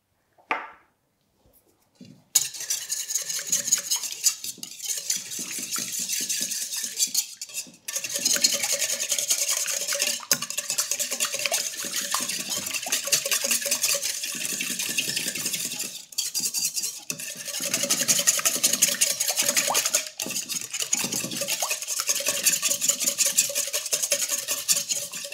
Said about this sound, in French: on va venir rajouter la levure et on va fouetter pour que toute la levure en fait se dissout dans le liquide